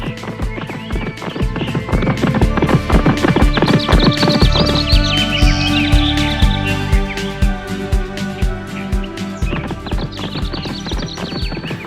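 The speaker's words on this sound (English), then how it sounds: "The horse took off striding." Rapid rhythmic hoofbeats of a galloping horse, loud and close, with a whinny rising over the drumming partway through.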